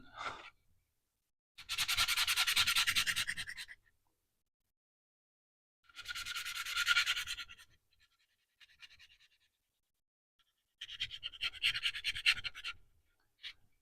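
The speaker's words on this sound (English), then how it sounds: "I'm not sure what grit I have on the belt sander, but I think it's close to 80, might be 60." A belt sander with a belt near 80 or 60 grit sanding a wooden bandsaw box, three loud rasping bursts of about two seconds each separated by silence.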